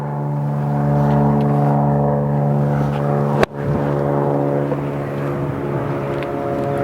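An airplane passes overhead at a golf practice range, a loud steady engine drone with strong tonal hum that swells, then eases after a sharp thump midway.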